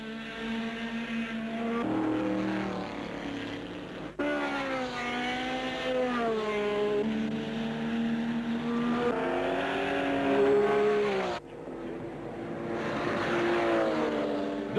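Renault Alpine race cars at the 1978 24 Hours of Le Mans, engines wailing as they pass with rising and falling pitch, several distinct passes from moderate distance.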